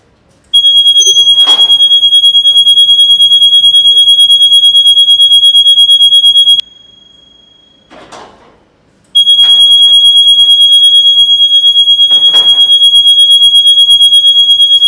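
A motion-sensor security alarm for a home, office or shop sounds in two loud, steady piercing electronic tones of about six seconds each, separated by a short gap with faint rustling.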